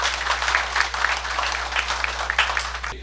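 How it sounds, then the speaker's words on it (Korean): Church audience applauding at a Korean theological debate forum, a dense steady clapping that fills the moment and cuts off sharply at the end, with a low hum beneath. "박수로 한번 서로 격려하시죠"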